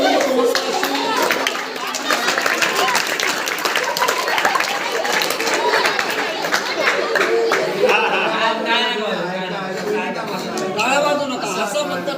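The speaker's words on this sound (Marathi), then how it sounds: "टाळ्या वाजू नका, असं फक्त टाळ्या वाजू" Audience clapping steadily and densely throughout a Bahurupi folk comedy performance, mixed with crowd chatter and voices.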